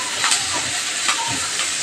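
Green chillies drop into hot oil with curry leaves, giving a loud, steady, close sizzling hiss with slight pulsing surges.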